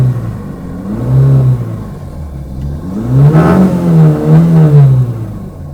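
A 2019 FAW XPV power edition dual AC van engine revs twice, each time swelling from idle to a louder, higher whine and falling back, heard close with a steady hum between the revs.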